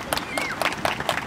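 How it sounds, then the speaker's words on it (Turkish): Guests clap at a Turkish civil wedding ceremony in a short burst of scattered, moderately loud applause mixed with crowd murmur. "alkışlarla davet ediyorum"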